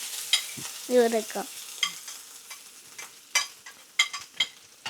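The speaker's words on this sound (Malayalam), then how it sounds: "തേങ്ങയിട്ട് തീ കുറച്ചിട്ട് നല്ലോണം ഇളക്കി കൊടുക്കുക" Coconut being stirred in a hot pan with spices over low heat, a scraping, rustling stir with light sizzling and occasional utensil taps against the pan, close and moderately quiet with no talk.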